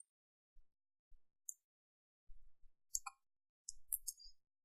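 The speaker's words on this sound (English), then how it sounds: "Now click on OK." Mouse clicks on OK while a sprocket is modeled in Inventor 2018 software, heard as several sharp, faint, close clicks, some single and some in quick clusters, with nothing else in the background.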